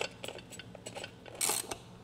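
Bolts on a BF-47 weight bench with converging arms being tightened during assembly, giving a run of short ratcheting clicks with a brief louder burst near the end, close and with no talk.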